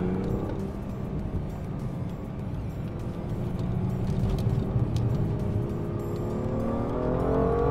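BMW M2 accelerating hard with traction control switched off: a loud, continuous engine roar climbing steadily in pitch through the revs, heard from inside the car with no talk.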